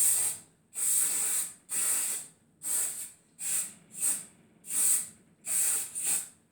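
Aerosol hairspray hisses in nine short bursts of about half a second each while being spritzed all over styled hair for a pompadour. The bursts are close and sharp, separated by brief quiet gaps.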